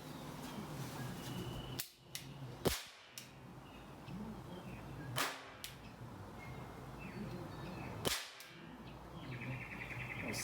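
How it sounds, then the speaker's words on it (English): A Wicke Ringo 8-shot western revolver cap gun fires several sharp, snappy cracks at uneven intervals, close and crisp against a steady background hiss. "here we go with a little shooting test of the Revolver."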